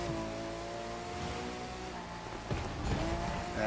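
In The Crew 2, an unfinished Ferrari's engine drones steadily with layered harmonics while tires squeal in short bursts near the end, the sound swelling louder in the last second.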